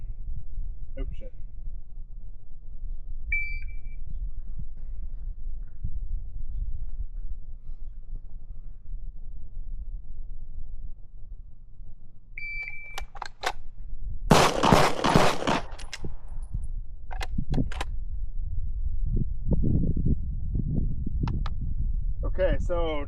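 Pistol shots fired in quick strings at several targets, drawn from a holster, come as a few sharp cracks in short bursts over low background rumble, with gaps between strings.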